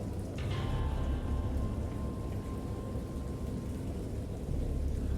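Steady rain hisses with a low, continuous rumble of thunder underneath, dense and even throughout, from the horror video game Dagon.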